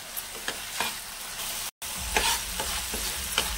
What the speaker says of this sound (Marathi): आता यामध्ये ना 2 स्लीट केलेल्या हिरव्या मिरच्या घालून घ्यायच्या आणि तेल सुटेपर्यंत आहे ना हे चांगलं परतून घ्यायचं.